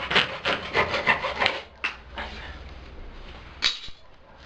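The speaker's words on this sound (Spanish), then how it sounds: "Y ahora con la lija de plumero vamos a lijar." Sandpaper rubs back and forth over a sink drain pipe in a rapid run of scratchy strokes, then a few slower, separate rasps, close up with no talking.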